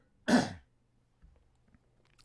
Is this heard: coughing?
yes